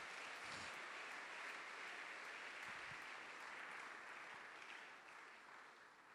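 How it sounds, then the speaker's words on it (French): A church congregation applauds loudly and steadily for about six seconds, a dense, sustained clapping that fades slightly toward the end. "Acclamons très fort pour le Seigneur."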